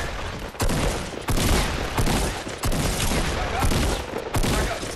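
Rapid bursts of gunfire from the video game Fortnite erupt in several loud, dense volleys separated by brief gaps, chaotic and close, with no talk over them.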